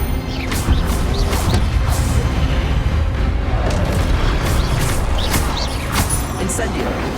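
Spellcasting combat in Hogwarts Legacy, with the Expelliarmus disarming spell thrown amid dense, loud magical blasts, booms and crackling impacts layered over a constant rumbling game mix.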